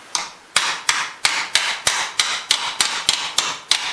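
Metal sheet being hammered down into a shrinking stump, a dozen sharp, evenly spaced close hammer blows ringing out at a steady rhythm with no voices.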